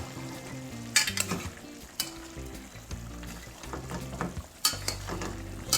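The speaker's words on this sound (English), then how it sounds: "now I will go ahead and stir" Jamaican chicken fricassee with ketchup sizzles in a frying pot under steady stirring, with a few sharp scrapes and clinks of the utensil against the pot; no one speaks.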